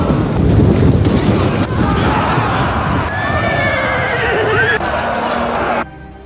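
Horses whinny loudly during a cavalry charge in a siege battle, several shrill neighs rising over pounding hooves and wind-like rushing noise, fading out abruptly at the end.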